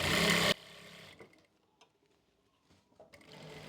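An electric sewing machine stitches piping along the sleeve edge of an Anarkali kurti in one short loud whirring burst, followed by quiet handling of the fabric.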